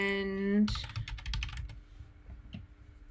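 Quick clattering keystrokes on a computer keyboard come in a short burst right after a brief tone, then trail off into a few scattered taps. The typing is close-up and clear, with no voice over it.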